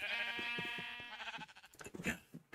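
Sheep in the video game Minecraft bleat loudly and close by: one long wavering bleat, then a run of shorter, choppier bleats.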